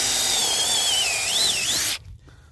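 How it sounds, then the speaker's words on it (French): A Pro Tool rotary hammer drills counterbores into concrete, whining loudly and continuously up close for about two seconds with a wavering pitch before cutting off abruptly. "Et donc, je fais ces lamages pour le noyer dedans."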